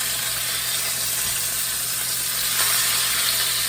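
Cube steaks frying in a skillet give a loud, steady, close sizzle that runs without a break from start to finish.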